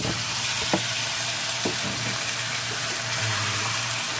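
Chicken pieces dropped into a pan of creamy curry sizzle steadily, with a few clinks and scrapes as they are stirred, close and alone with no voices.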